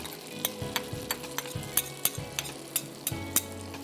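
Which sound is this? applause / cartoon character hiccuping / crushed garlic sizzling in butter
crushed garlic sizzling in butter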